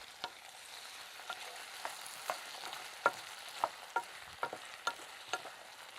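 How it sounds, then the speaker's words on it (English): Diced swede and potato cooking in a pan with golden onions, stirred with a spoon: a steady low sizzle beneath a series of sharp, evenly spaced scraping taps, fairly close and moderate in level, with no talking. "we can add the diced swede and the potato, and we can cook and stir for about 5 minutes"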